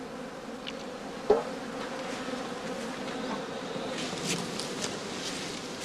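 Honey bees buzz steadily around straw skeps at a beekeeper's autumn feeding, a continuous nearby drone with a brief knock partway through.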